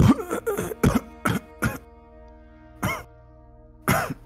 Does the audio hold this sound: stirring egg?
no